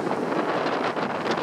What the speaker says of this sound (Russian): И ветер такой задул сильный. Прям камеру из рук вырывает.